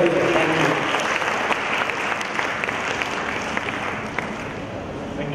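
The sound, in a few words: audience applause for a guest lecturer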